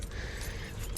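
Keys jangle and clink in a continuous metallic rustle throughout, close by and moderately loud, with a low rumble underneath, likely inside or beside a vehicle.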